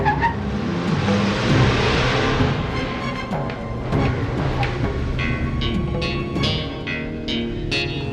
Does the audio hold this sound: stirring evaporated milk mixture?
no